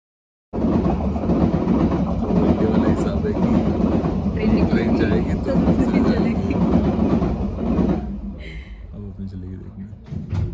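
A London train rolls along toward Wembley with a steady, loud rumble and rattle of the carriages that eases off near the end as it slows, while voices talk underneath.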